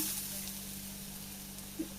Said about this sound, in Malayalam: ഇനി സെയിം ചട്ടിയിൽ തന്നെ ഞാൻ തേങ്ങ വറുത്തെടുക്കുകയാണ്